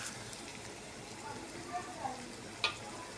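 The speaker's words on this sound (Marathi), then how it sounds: "एक मोठा चिरलेला कांदा टाकू आणि लसूण टाकू याला चांगलं परतून घेऊ" Chopped onion and garlic frying with curry leaves and red chillies in a pan, a faint soft sizzle with a few light clinks, under quiet talk.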